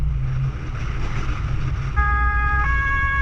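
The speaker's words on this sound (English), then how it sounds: "They're flip the siren on and the lights and they're ready to roll" A German police car siren starts wailing over a loud running engine and background rumble on the Autobahn, rising into steady high tones near the end.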